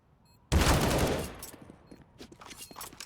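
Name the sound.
gunfire from scout and AK rifles in a video game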